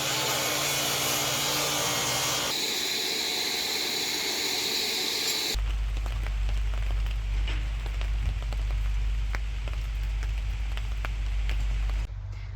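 Steady, dense hiss of rain drumming on a school bus, loud and continuous, with a deeper low rumble joining partway through.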